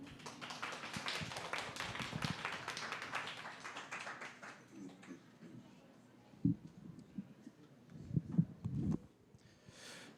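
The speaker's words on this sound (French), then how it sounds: "On applaudit, s'il vous plaît, Benoît Loup." Audience applause at an evening science talk held at the botanical garden, broad crowd clapping for several seconds that thins out, followed by a few louder scattered claps and a faint voice near the end.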